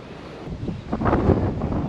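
Strong wind buffets the microphone in a loud, rumbling roar that surges and swells, with no voices.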